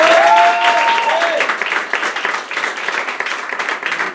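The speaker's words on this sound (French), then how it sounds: "on peut l'applaudir très très fort." Loud audience applause at an improv comedy show, a dense, sustained wash of clapping from a crowd, with a brief voice or whistle over it at the start.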